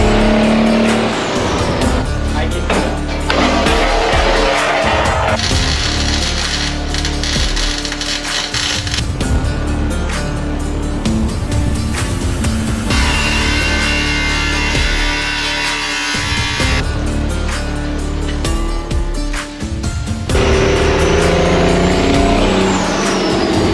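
Cummins-swapped Chevrolet C60 truck driving, with a loud continuous engine drone and shifting tone as it accelerates and slows, plus broadband road and wind noise close up and no talking.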